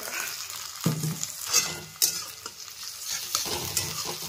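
Onions with ginger garlic paste sizzle and fry in a pan for chicken curry, a steady close sizzle broken by several sharp stirring scrapes and clinks, with no talking.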